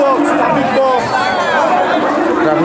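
Street crowd of protesters in Kushtia celebrating after clashes, a dense continuous hubbub of many voices chattering and cheering close by, steady and loud throughout.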